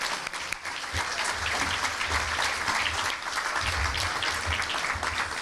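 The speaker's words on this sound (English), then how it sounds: "Let's give them another round of applause." Sustained applause from an awards ceremony crowd at a chamber of commerce event, loud and continuous dense clapping for several seconds, with low thumps and a few faint voices underneath.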